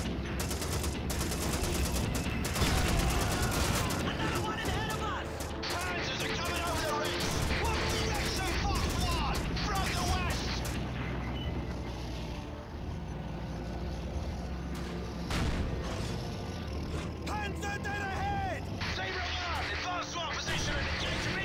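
Flak guns firing in Call of Duty 2 on the 88 Ridge map, a dense, continuous barrage of loud gunfire and blasts with scattered crashes, running steadily throughout with a voice talking over it.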